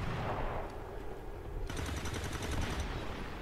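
Rapid bursts of automatic gunfire in the X-Com 2 video game crackle in fast repeated volleys, loud and continuous with no talk.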